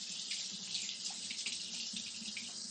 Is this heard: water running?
yes